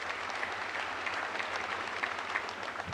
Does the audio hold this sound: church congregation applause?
yes